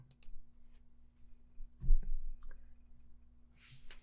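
A few sharp mouse clicks sound close and isolated against a quiet room hum while a tab is selected in network-scanning software, with a louder thump near the middle.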